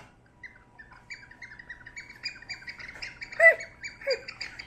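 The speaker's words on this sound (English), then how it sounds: "It just makes you smile. The chirping bird." A small bird chirps and tweets in a quick series of short, bright calls, fairly close and clear over a quiet background, with a louder squawk-like burst near the end.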